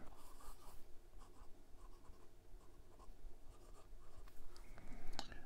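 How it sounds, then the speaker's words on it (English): A Leonardo Momento Zero Grande Ebonite fountain pen scratches across Clairefontaine 90 GSM paper, soft close strokes in an irregular rhythm that grow a little louder toward the end, with no speech. "we're back with the writing portion of the review. This is Clairefontaine 90 GSM paper"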